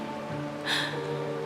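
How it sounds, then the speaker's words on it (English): Steady rain falls in the video game Honkai: Star Rail, a soft continuous hiss with a brief brighter swell midway, heard over faint tonal background music. "This is the sound of rain."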